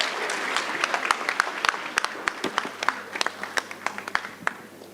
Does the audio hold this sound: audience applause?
yes